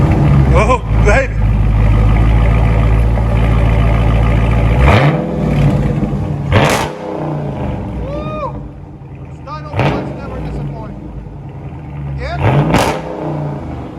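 2020 Dodge Charger 6.4L 392 HEMI V8 with dual exhaust and Dynomax Race Bullets, idling deep and loud before several sharp, close revs that blip and fall away, with someone talking between them.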